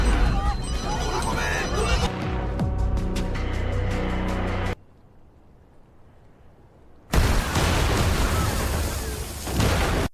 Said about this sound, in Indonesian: bukan hanya kuil yang meledak, tetapi juga semua brankas dan uang yang berada di belakang Jilong dan Andi